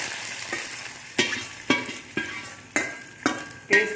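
Mustard seeds, shallots and dried chilies frying in hot oil in a kadai, a steady sizzle broken by about seven sharp, regular stirring scrapes, close and loud with no voices.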